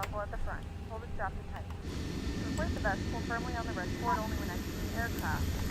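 Engine number 2 of an Air New Zealand airliner spools up during startup in Microsoft Flight Simulator 2020, a steady rising whine and rumble under intermittent radio-style talk.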